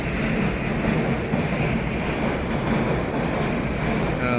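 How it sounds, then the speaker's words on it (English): Overhead train passing above an indoor spot by a sport card vending machine, a steady dense rumble with rail clatter, loud and continuous throughout with no one talking. "As you could hear the train from above."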